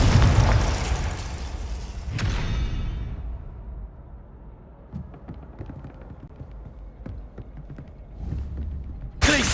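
In Hogwarts Legacy, a Confringo spell bursts with a loud booming blast at the start and a second sharp hit about two seconds in, then fades into softer creaks and thuds before another abrupt burst at the end.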